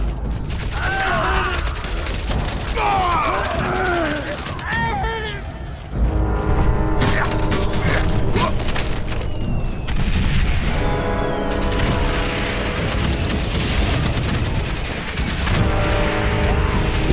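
Artillery guns in the Valiant Hearts World War I game fire in repeated heavy booms with mechanical clanks and rattling, loud and continuous, under brief talk.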